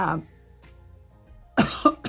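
A short voice sound, then near silence, followed by a single sharp, close cough.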